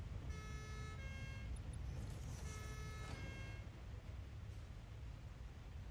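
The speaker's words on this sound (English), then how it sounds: "I have a siren." A vehicle siren in the factory-building video game Satisfactory, a steady tonal wail with stacked harmonics that sounds in two bursts, with a brief gap between them, over a low background hum.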